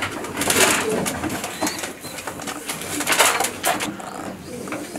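Pigeons coo inside a racing-pigeon loft housing young birds and separated hens, a dense, continuous murmur of overlapping calls with some louder bursts, fairly close.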